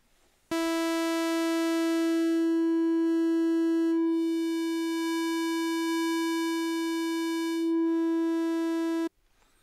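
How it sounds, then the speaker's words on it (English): An iPad Redshrike synthesizer oscillator holds one sustained bright harmonic tone for about nine seconds, its timbre shifting subtly as the waveform morphs, alone and fairly soft. "I can also morph between the main three waveforms and find very different oscillator settings that give me different sounds."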